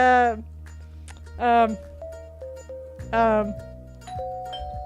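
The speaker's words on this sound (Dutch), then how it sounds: "Ding dong! That must be the food." A doorbell rings inside the Roblox video game, three bright ding-dong chimes in a row, loud and close, with a steady game tone humming under them.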